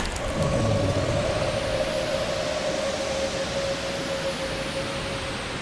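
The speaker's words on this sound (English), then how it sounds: "because the big old noisy truck he didn't see coming" Big, noisy truck rolling along in the survival game The Infected, a constant low rumble with a droning engine tone held at even loudness, no voices over it.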